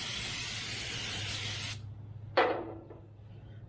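Cleaner sprayed onto a Ford F150 brake rotor to strip packing oil, a steady close hiss of spray cutting off, followed by a brief sharp squirt and quieter hiss.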